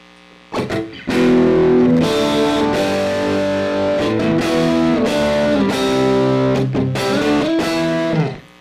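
Electric guitar played through the Mr. Smith Distortion effect of an M-VAVE Cube Baby, loud sustained gritty chords and riffs ringing out after a couple of muted picks, then cutting off.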